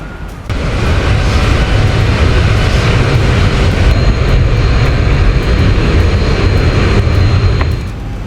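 Zibo Boeing 737-800 in X-Plane 11 on landing approach to Acapulco with flaps at 5 and gear coming down, a steady loud jet engine roar and broadband airflow rumble holding throughout, with a faint tonal whine joining partway.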